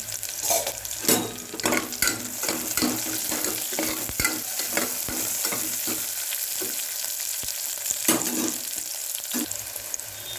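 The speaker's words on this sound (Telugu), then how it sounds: "కొంచెం బ్రౌనిష్గా వచ్చాయి కదా ఇప్పుడు కరివేపాకు వేసుకున్నాం" Curry leaves crackle and sizzle in hot oil in a pan while making a stuffed brinjal curry, a steady loud frying hiss with sharp pops scattered throughout and no voices.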